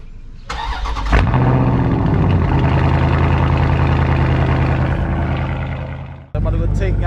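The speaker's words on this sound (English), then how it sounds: "what I'm about to give y'all is like a nice little cold start" A Dodge Charger Scat Pack cold-starts with a loud crank and flare, then settles into a steady, deep idle rumble up close before cutting off briefly and resuming. Someone talks over the engine.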